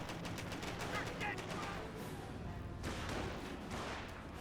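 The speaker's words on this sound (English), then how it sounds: "Firing away against the engineers." Gunfire from a Company of Heroes 1 battle, with rapid bursts of weapon fire rattling steadily over a dense mix of game noise while a commentator talks over it.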